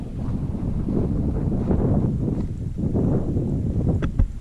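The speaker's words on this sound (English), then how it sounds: "You hear another noise. Or is it the wind?" Wind gusts across open desert land, buffeting the microphone with a loud, continuous low roar that swells and eases without pause.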